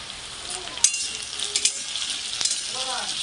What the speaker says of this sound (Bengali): হালকা হালকা বাদামি কালারে কচু, পেঁয়াজ, মশলা সব ভাজা হয়ে গেছে।